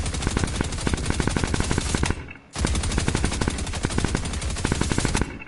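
Rapid automatic gunfire in Fortnite played on a PS5, two loud sustained bursts of evenly spaced shots separated by a brief pause, close and dominant with no talking.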